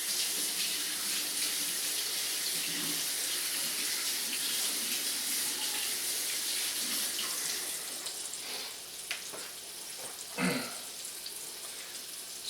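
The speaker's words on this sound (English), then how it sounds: "let me go ahead and rinse my flour fingers" Tap water runs steadily into a kitchen sink as floury fingers are rinsed while cooking chicken piccata, a broad even hiss with a few splashy changes near the end.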